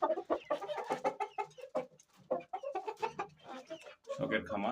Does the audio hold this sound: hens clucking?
yes